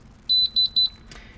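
A Tusy 5-in-1 heat press timer finishes with three pairs of high electronic beeps, close and clear in a quiet room, followed by a brief click.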